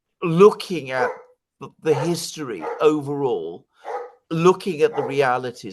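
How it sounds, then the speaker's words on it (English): A dog barks in the background, partly buried under a man's steady speech in an indoor conversation. "I'm sorry about the dog."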